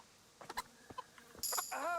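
Several short clucks from chickens in the video game Kingdom Come: Deliverance in quick bursts, followed by brighter, higher chirping calls near the end, fairly faint overall.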